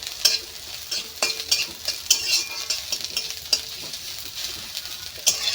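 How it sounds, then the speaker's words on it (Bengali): Black cumin dropped into hot oil to temper a pot of lentil dal, crackling and sizzling steadily with sharp spitting pops and a few metal spoon scrapes against the pan, close and alone with no voices. "এটা ফোড়ন দিব, এই যে হয়ে গেছে ডাল।"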